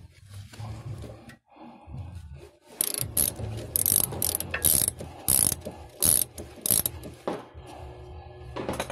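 A ratchet wrench turns a 14 mm socket on a nut during front lower arm replacement on a 2003 Mitsubishi Lancer ES, giving loud, close bursts of rapid metallic clicking with short pauses between strokes.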